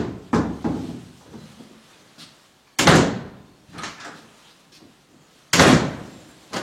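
A wooden door is fitted into its frame during a renovation of an abandoned house, giving several sharp knocks and bangs with scraping between them, loud and close, with no talk.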